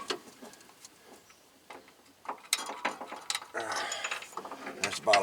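Ratcheting and metallic clicking from a wrench working the stubborn bottom bolt on the rear wheel bearing of a 2015 Buick Enclave, starting faint and sparse and growing into louder, busier clicks and rasps toward the end.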